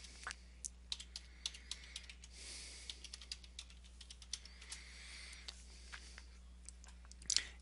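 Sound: typing on computer keyboard to log in

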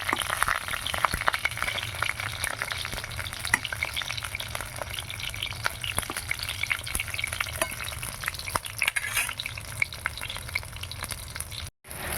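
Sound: pointed gourd (potol) frying in oil

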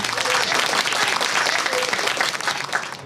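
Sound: applause

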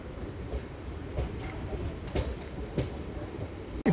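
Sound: Vande Bharat high-speed train passing

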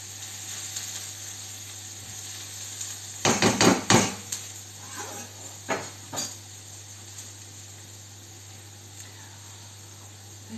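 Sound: knife cutting cucumbers for salad

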